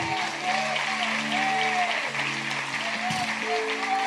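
Church congregation clapping praise to the Lord during a sermon, a busy crowd applause running under sustained tones from music or voices, fairly even throughout.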